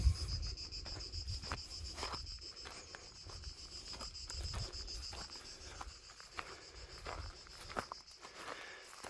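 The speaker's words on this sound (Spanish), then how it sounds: "Escuchad la chicharra como canta." A cicada sings outdoors in a countryside setting with an approaching storm, its thin high buzzing drone running steadily beneath soft footsteps and rustling.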